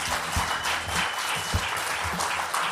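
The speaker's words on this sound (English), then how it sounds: "huge round of applause for our sponsor, your offensive security partner, Praetorian" A live audience at a security event claps for a sponsor, a steady patter of many hands with no voices over it.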